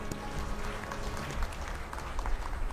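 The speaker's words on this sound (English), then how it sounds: "A big round of applause for them," A round of applause from the audience at a Varmam Academy convocation ceremony, a continuous dense clatter of clapping hands with a steady low rumble beneath.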